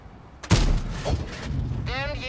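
A tank cannon fires in World of Tanks, a single loud, close blast followed by a rumbling decay, then a metallic ringing tail, with someone talking over the game.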